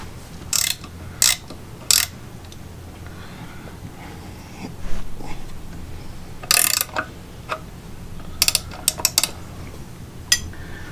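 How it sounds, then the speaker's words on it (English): A wrench clicks while tightening bolts on the lower unit of a 2013 Mercury 250 Pro XS outboard, with short metallic ratcheting bursts in scattered clusters, close and fairly loud against a quiet background. "I get a wrench and tighten them down."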